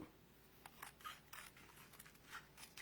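Scissors snipping through paper for a paper-weaving craft, a series of quick, faint, close cuts in an irregular rhythm, alone with no talking.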